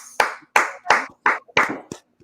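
A few people clap slowly in a sparse audience at a remembrance event, giving about six sharp, separate bursts in an uneven rhythm, close and clear with silence between them.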